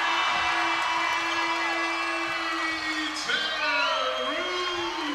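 A large indoor crowd at a college basketball game roars and cheers loudly and continuously, with whoops and shouts rising over the din and a surge near the end.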